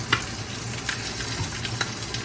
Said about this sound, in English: Let's put on our rack, the fat side down. There. Get a beautiful sear on that.